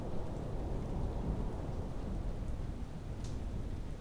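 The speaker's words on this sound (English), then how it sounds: "Rain." Heavy rain pours in the Space Engineers video game, a steady dense hiss with a low rumbling roar like distant thunder, continuous and fairly loud throughout.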